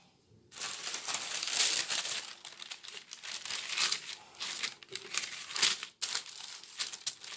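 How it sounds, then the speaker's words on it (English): Greaseproof paper being peeled away from a dried, pressed plant specimen, close and crisp, with crinkling and rustling bursts that rise and fall over several seconds, with no talking. "you can peel off the greaseproof paper and have a little look"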